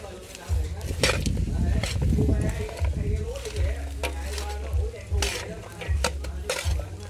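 Bait fish mixed by hand with water hyacinth for frog traps, close wet squelching and scraping in uneven bursts with occasional clinks against a container.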